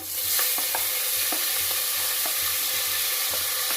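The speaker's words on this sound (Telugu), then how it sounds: "టమాటాలు వేస్తున్నాను" Tomatoes going into a frying pan for radish sambar, with a steady hiss of sizzling oil and a few light stirring taps and scrapes close by, no voices.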